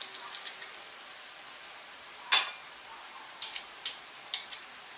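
Crushed garlic sizzles softly in a pan over low heat while a utensil stirs it, with a faint steady hiss broken by several brief scraping clicks and one sharper knock, no voices present.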